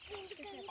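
A rooster clucking softly at a close but quiet level: a brief run of low, throaty clucks in under a second.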